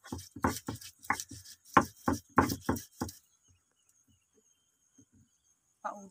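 Small chilies and cherry tomatoes are crushed into a paste with a run of sharp, close pounding and grinding strikes in an uneven rhythm that stops halfway, leaving near silence with a faint bird chirp.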